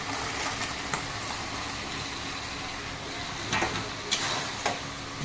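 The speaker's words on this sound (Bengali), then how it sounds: "দিয়ে এবার 5 মিনিটের মতো আমি কষবো, সুন্দর করে মাখো মাখো হয়ে যাবে" Chili soybean chunks fry in a pan while being stirred, a steady soft sizzle broken by a few sharp scraping strokes of the spatula near the end.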